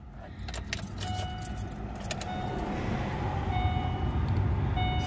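A 2008 Suzuki Forenza sedan engine idles with a steady low rumble, opening with a bright jingle of keys that fades as the running engine grows slightly louder.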